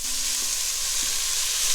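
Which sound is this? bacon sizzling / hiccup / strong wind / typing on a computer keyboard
bacon sizzling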